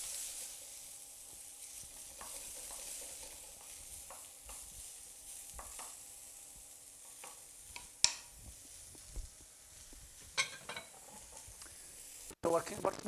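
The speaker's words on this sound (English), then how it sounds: "So now, in with the oil, and you should start to hear a sizzle now." Mushrooms and cumin sizzle in hot oil in a pan, with a steady, close frying hiss throughout, broken by occasional clinks and scrapes of stirring that sharpen toward the end.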